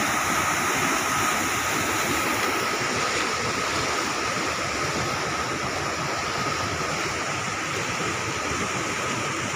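Strong river water rushing steadily through a rice-field irrigation dam, a dense, constant roar with no voices and no letup.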